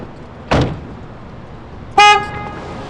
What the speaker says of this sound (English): Is he honking at us?